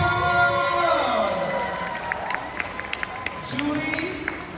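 Audience applause and cheering for eighteen pantun competition participants, a crowd clapping and shouting together at close range. An amplified voice speaks over it, and the clapping thins into scattered claps toward the end.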